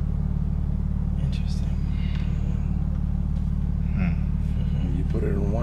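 BMW G80 M3 with its exhaust resonators cut off and no tune, a loud steady low engine and exhaust drone heard from inside the car, with people talking over it.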